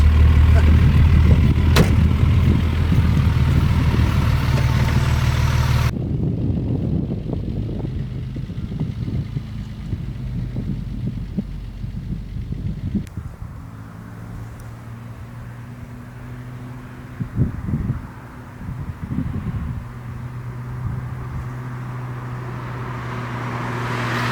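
A 1970 Mercedes-Benz 280 SL Pagode in original condition pulls away, its engine a low, steady rumble that swells and settles under continuous road and wind noise.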